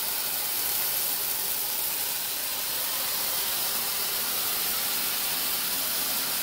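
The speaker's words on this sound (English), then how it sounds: "Let's see what happens if we turn on the sprayer." Water spraying from a pull-down kitchen faucet sprayer, a steady hissing rush that stays even and close throughout.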